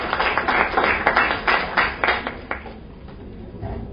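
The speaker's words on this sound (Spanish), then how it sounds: "Un aplauso." A crowd applauds with brisk clapping for a couple of seconds, then the clapping fades away into quieter room noise.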